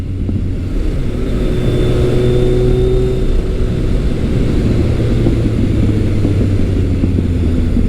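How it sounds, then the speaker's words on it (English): A Kawasaki ZRX motorcycle with an ART aftermarket exhaust drones steadily and loud throughout, its low rumbling tone rising and falling as the throttle is worked, with no voices. "The sound from that ART exhaust is really nice"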